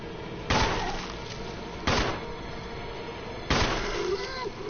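Three sharp gunshots from Resident Evil HD Remastered, spaced about a second or more apart, loud and close over a steady game backdrop with talk around them.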